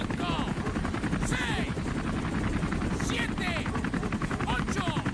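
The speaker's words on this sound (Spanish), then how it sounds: "se escucha el sonido de un helicóptero que aparece mientras Gatsby hace flexiones" A helicopter's rotor thuds in a loud, steady rapid chop throughout, with sharp intermittent noises and chirp-like sounds layered over it.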